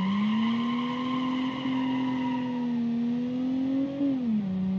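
A cheap 1990s minivan in the driving game BeamNG, with a holed exhaust, drones loudly at steady high revs, its engine pitch rising gradually and then dipping near the end, continuous and close with no talking.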